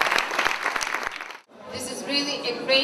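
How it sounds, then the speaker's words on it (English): Audience applause at a celebration of a language center's anniversary in Russia: a dense, loud burst of clapping for about a second and a half, then fading into a voice speaking. "Please give a nice applause to Mark Linker from Liden Denz."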